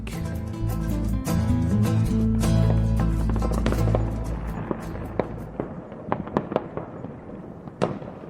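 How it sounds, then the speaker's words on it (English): Festival fireworks burst in a dense, loud rolling barrage that thins into scattered sharp crackles and pops, with one last bright bang near the end; no voices. "underneath a canopy of fireworks which intensify as the festival reaches its peak"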